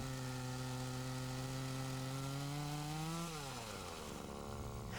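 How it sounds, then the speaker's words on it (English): A chainsaw making the face cut on a tree during felling, its engine holding a steady high whine under load, then dropping in pitch as the cut ends, moderately distant and alone. "Using the top of his saw as a sight, he lines up and makes the face cut."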